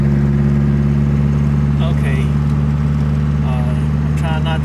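A Triumph TR4 engine drones steadily from inside the car as it pulls through the gears, a loud, even low hum with a few brief higher squeaks, while someone talks over it.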